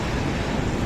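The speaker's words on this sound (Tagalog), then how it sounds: "Nagangalit din ang mataas na alon sa baybayin." High typhoon waves pound the shore at Gonzaga, Cagayan during Typhoon Marce, a loud continuous wash of surf mixed with wind rumble, with no talking.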